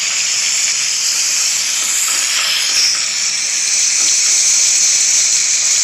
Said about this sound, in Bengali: কুচনো পেঁয়াজগুলো দিয়ে যতক্ষণ না পেঁয়াজটা একটু বাদামি রং হচ্ছে ততক্ষণ পেঁয়াজটা নেড়ে চেড়ে নিতে হবে।